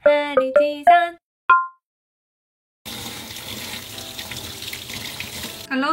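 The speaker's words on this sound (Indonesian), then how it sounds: "Kalau timunnya segar banget, tidak usah kupas kulitnya, cuma cuci dengan bersih." Fresh cucumbers are rinsed clean under a running kitchen tap, giving a steady splashing gush of water that lasts a few seconds, preceded by a few short voiced sounds and a moment of silence.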